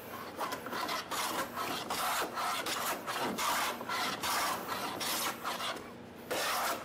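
A hand plane rasps over a wooden board in repeated strokes, skipping as it catches the high spots between low areas, each pass a dry scraping rush separated by short pauses, close and moderately loud with no talking.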